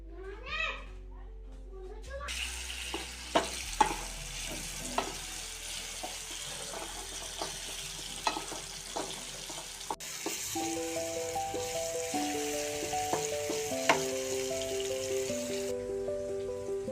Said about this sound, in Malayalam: എണ്ണ ചൂടായിട്ട് നമുക്ക് അരിഞ്ഞ വെച്ച മാങ്ങ ഇതിനകത്തേക്ക് ഇട്ട് വഴറ്റിയെടുക്കാം